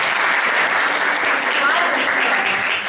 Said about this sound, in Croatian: aplauz za Pinku